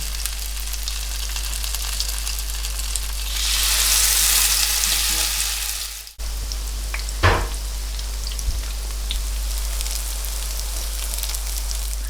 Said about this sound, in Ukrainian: Олія розігрілася, я накладаю деруни